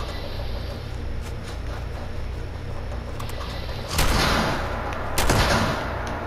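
A grenade launcher fires in the post-apocalyptic game Fallout 76, two sharp blasts a second apart with bright crackle over a steady low background rumble.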